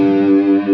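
Distorted electric guitar plays a short, smooth riff with pull-offs, loud and close with sustained overdriven tone and no talking.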